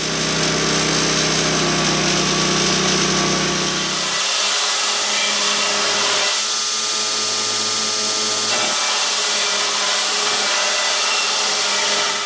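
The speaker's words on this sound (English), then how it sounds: "I spent a little bit of time in front of the grinder just thinning the whole thing down" Grinder thinning a forged serpent-core Viking sword blade, a loud continuous high whine with harsh grinding that shifts in pitch as the steel is pressed and eased off, close and without speech.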